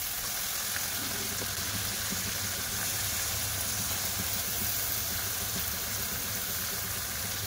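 Lote fish, marinated in salt and turmeric, frying in a spice paste gives a steady, even sizzle and hiss that holds at the same level throughout, with no talk over it.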